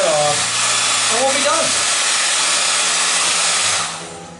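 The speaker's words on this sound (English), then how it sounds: "So I'll grab the blow dryer, dry that off" A blow dryer blasts loudly and steadily over watercolor paint on paper, a broad close whooshing roar that runs for several seconds before tapering off, while someone speaks briefly under it at the start.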